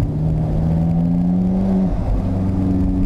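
Alfa Romeo 4C engine revving from inside the car, a loud steady drone that climbs in pitch, drops off briefly, then picks up again, with no talk over it.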